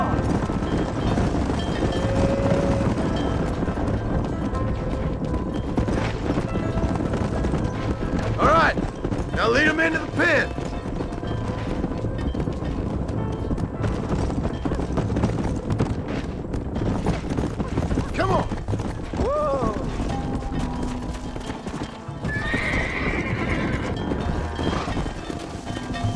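Horses gallop in the western video game Red Dead Redemption, with steady hoof clip-clop and occasional whinnies under game music and characters talking.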